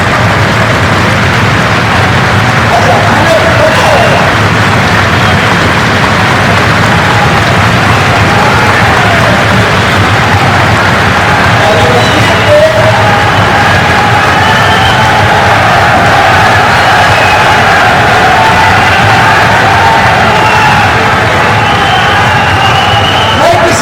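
Large crowd of protesters chanting slogans for Ali Wazir from a house, a dense, loud roar of massed voices rising and falling steadily across the whole span, with talk over it.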